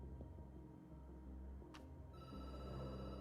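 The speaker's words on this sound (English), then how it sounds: "The phone rings." A telephone rings in the video game Night Call, a faint electronic ring that starts partway through and continues steadily over a quiet, humming background.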